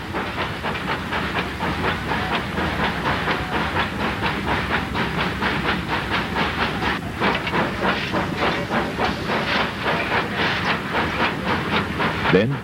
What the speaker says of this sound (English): The train passes through Little Nance Cut.